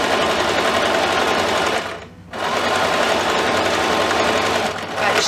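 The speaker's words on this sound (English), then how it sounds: "So I'm sewing on my very first sewing machine that my parents bought me" A sewing machine whirs steadily as it stitches, breaking off briefly for a moment before running on at the same fast, even pace.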